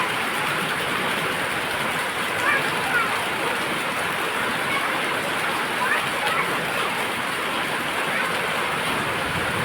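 Heavy monsoon rain with lightning pours down in Bhavnagar, Gujarat, as a loud, dense, unbroken roar that holds steady from start to finish.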